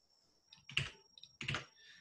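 Computer keyboard typing, a couple of quick soft bursts of clustered key clicks, close and quiet with no talking.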